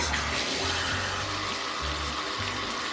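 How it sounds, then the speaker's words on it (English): Warm water running from a tap into a bathtub in a tiled bathroom, a steady broadband rushing hiss with a low gurgling undertone, continuous and close throughout. "Now we're gonna add some warm water."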